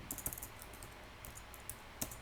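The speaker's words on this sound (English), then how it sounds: "let's start typing that and see what we come up with" Code being typed on a computer keyboard for a Swift SpriteKit game in Xcode: quiet, irregular key clicks in short bursts with a couple of sharper taps, no voices.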